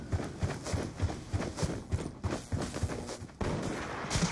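Rapid, regular gunfire from a sniper shootout in a first-person shooter video game, a steady run of sharp shots about every third of a second with dense battle noise behind them.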